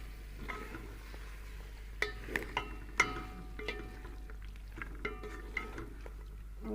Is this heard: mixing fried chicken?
yes